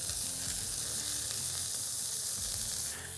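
Venison smash burger patties, pressed flat and seasoned with salt and a pastrami mix, sizzle steadily on a cast-iron surface over a fire pit, a close, continuous frying hiss with no talk.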